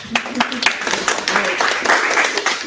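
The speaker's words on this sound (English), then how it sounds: "Let's give a round of applause" An audience applauds for Elijah at a mental health and Christianity panel event, with scattered hand claps, some sharp and distinct, mixed with crowd chatter and voices at close range.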